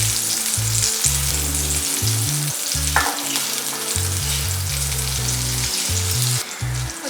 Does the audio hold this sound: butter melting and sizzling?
yes